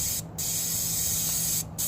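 An aerosol sprays lubricant onto a motorcycle chain in a steady, close hiss that runs almost unbroken, dipping twice in brief pauses between bursts.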